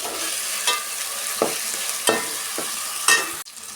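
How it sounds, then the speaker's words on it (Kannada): Ginger garlic paste frying in a pan for ghee rice and kurma, a continuous close sizzle broken by several sharp scraping strokes of a spoon at regular intervals, then a brief drop near the end. "ಚೆನ್ನಾಗಿ ಹಸಿ ಸ್ಮೆಲ್ ಹೋಗೋ ತನಕ ನಾವು ಶುಂಠಿ ಬೆಳ್ಳುಳ್ಳಿ ಪೇಸ್ಟ್ನ ಫ್ರೈ ಮಾಡ್ಕೊಬೇಕು"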